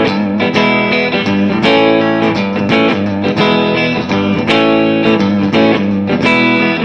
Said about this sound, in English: see what a Gibson Les Paul sounds like running